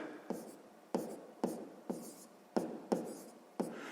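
Numbers written by hand on paper during a sixth-grade maths exercise, a series of about eight crisp pen taps and short strokes in an irregular rhythm, close and dry.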